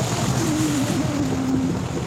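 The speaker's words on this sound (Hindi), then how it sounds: "ये वाटरफॉल यहाँ से गिर रहा है" A small waterfall beside a mountain road gives a continuous, close rushing hiss of falling water with no breaks.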